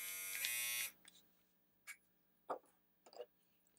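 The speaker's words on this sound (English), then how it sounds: "It's the body trimmer." An 11-in-1 USB rechargeable cordless body trimmer runs with a bright, steady electric buzz for under a second, then shuts off, followed by a few faint handling clicks.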